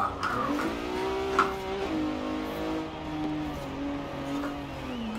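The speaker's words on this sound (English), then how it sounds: "I was trying to have a little fun and slide it around" A racing car slides on dirt in the video game Forza Horizon 4 while its engine drones loudly and steadily, rising and falling in pitch with revving, with a brief tire scrub early on.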